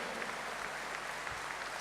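A crowd at a Sicilian political rally bursts into applause, a dense, uniform roar of clapping hands sustained through a short burst with no speech over it.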